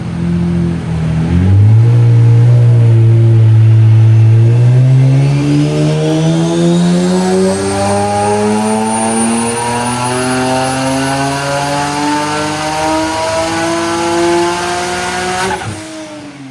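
A turbocharged Nissan 370Z engine revs on a dyno in one long, loud, near pull, the tone climbing steadily for about fourteen seconds before cutting off abruptly.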